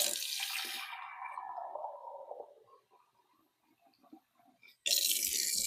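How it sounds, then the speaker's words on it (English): Water pours into a cooking pot holding potatoes with a hollow, falling gurgle that trails off into a few drips, then another short splash of pouring begins. "I think I'm going to add just a little bit more water."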